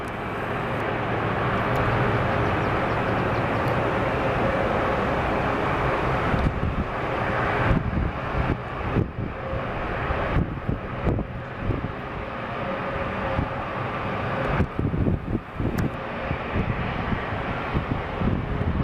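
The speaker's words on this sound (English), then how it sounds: "There's our United A321neo in the 100 years livery." United Airbus A321neo airliner passing overhead during plane spotting in Seattle, a broad steady jet roar with wind buffeting the microphone throughout.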